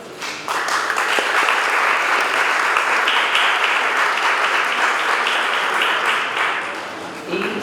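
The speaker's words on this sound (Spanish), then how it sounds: "Les pido un aplauso." Audience applause at a book presentation on the Mexican Revolution, a full, sustained round of clapping that swells quickly and holds for about seven seconds before tapering off.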